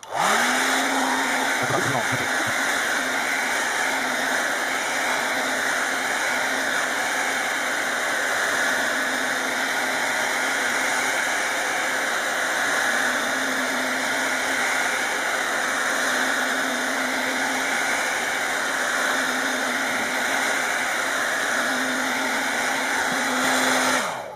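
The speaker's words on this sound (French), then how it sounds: "Alors pour ça, il faut un sèche-cheveux. Et puis pendant une petite minute, on va chauffer tout le tour." A hair dryer blows hot air across the glass touchscreen of a Lexibook Ultra 3XL 9-inch tablet to soften the adhesive, a loud, steady whooshing roar that runs unbroken and close throughout.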